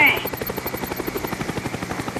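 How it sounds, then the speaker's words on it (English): A Cobra attack helicopter in Call of Duty Black Ops thumps past with steady, rapid rotor beats, moderately loud, after a brief electronic blip at the start. "Friendly Cobra inbound."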